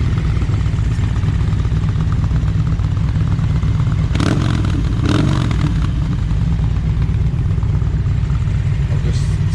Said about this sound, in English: sound of motorcycles running in the morning.